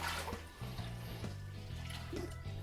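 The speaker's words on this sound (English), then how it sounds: "So with some hot water, I'm going to fill up, say about 3/4 of the way" Hot water poured into a crock pot slow cooker, a steady close gurgling stream with shifting pitch as the pot fills, fairly quiet and alone without talking.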